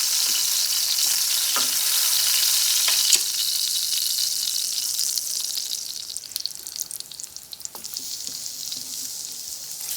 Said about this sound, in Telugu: సెకండ్ బ్యాచ్ కూడా అదే విధంగా ఫ్రై చేసుకుందాం.